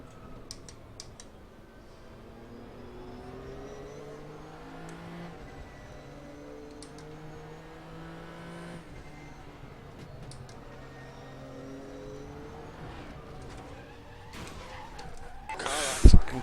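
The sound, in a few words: Nissan GTR GT3 race car running over curb at Bathurst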